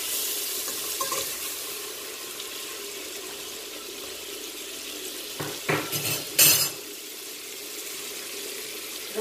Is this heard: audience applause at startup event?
no